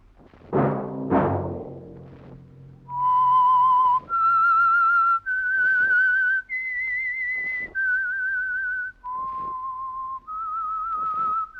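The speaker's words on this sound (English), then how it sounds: "Let that whistle be your signal for the Signal Oil program, The Whistler, each Wednesday night at this same time." A solo whistler plays the eerie theme signal of The Whistler radio program, a slow melody of about seven clear sustained notes after two short opening sounds, heard alone.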